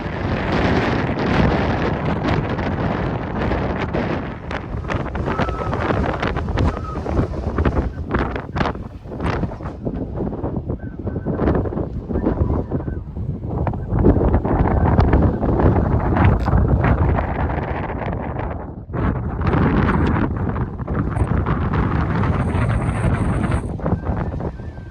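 Strong wind buffets the microphone on Pule Hill, an open moorland landscape, roaring loud and continuous with gusty low rumbling throughout and no voices.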